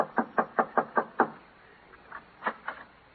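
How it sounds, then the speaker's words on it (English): A radio drama sound effect of knocking on a house door: six quick, even raps, a pause, then three or four lighter knocks, close and dry with no voices. "Yeah, knock on the door."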